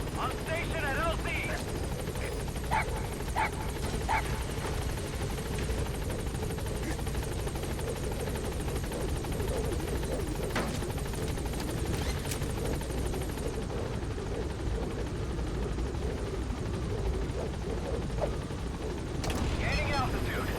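Close and loud, a video-game helicopter hovers over a landing zone in Metal Gear Solid V, its heavy rotor thump and turbine whine continuous, while radio-style voices speak over the din and a few faint distant shots crackle.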